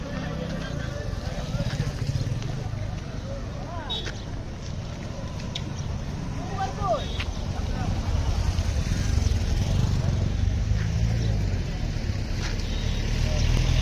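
A Bangladesh Navy boat's engine drones steadily on open water at Austagram, a low rumble that slowly grows louder, with faint background voices and occasional brief noises.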